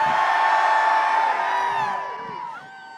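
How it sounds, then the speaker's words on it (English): A crowd of veterans marching for Trump's removal cheers and whoops together, loud sustained voices holding tones for about two seconds before tapering off into quieter shouts. "Cheer for me if you are from the Northeast."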